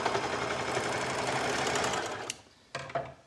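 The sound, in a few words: sewing machine stitching fabric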